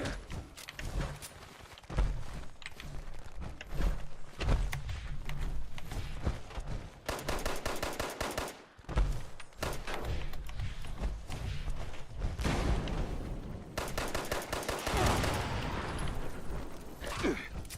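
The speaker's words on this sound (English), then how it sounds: "I swear my bullets are not even hitting him." Dense, near-continuous gunfire from the video game Fallout 76, rapid bursts and shots layered with thumps and impacts, loud and sustained throughout with brief lulls.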